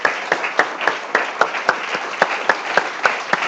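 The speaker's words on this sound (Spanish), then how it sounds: "démosle un aplauso al Señor." A church congregation claps in steady unison, a regular rhythmic beat of sharp claps about three per second, close and fairly loud with no talk over it.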